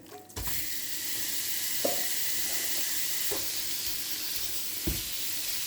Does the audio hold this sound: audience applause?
no